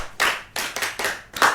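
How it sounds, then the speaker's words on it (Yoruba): A few people clap hands in short, separate bursts, four distinct clusters of nearby clapping with brief gaps between them. "Ẹ pàtẹ́wọ́ fúnra yín."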